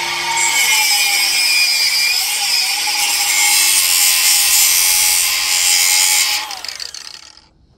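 Hose collars on a catch can setup of a Jeep Commander 5.7 Hemi are cut off with a power tool, a loud, steady high-pitched grinding cut for about six seconds before it stops and trails off.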